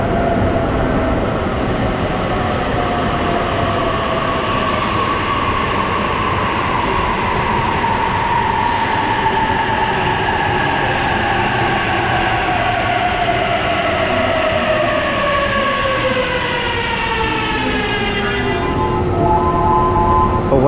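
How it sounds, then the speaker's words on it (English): The Narita Express pulls into a station, with a loud, continuous rumble of rolling stock and a long descending tone of braking wheels as it slows, with no speech heard. "here comes the train now."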